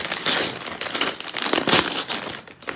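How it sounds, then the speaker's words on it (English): Glittery copper gift wrap decorated with small hearts crinkles and tears close up as a present is unwrapped, giving bursts of rustling and ripping with short pauses between them. "let's unwrap this."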